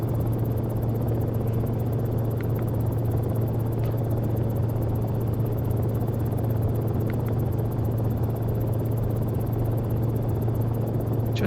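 Cicare 8 light helicopter in X-Plane flight simulation, a steady droning rotor and engine hum held level throughout, with faint clicks now and then and no talking.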